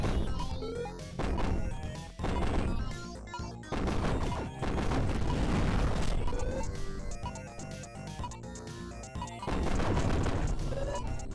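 Rapid, sustained video game gunfire from a level 3 gun, loud, dense bursts of shots and impacts stacked over a continuous layer of game music and effects, with brief gaps between volleys.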